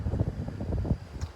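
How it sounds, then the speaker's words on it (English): Wind gusting across a microphone outdoors by a road in Emporia, Kansas, a low rumbling buffet that rises and falls steadily throughout with no voices. "It's just a little bit windy"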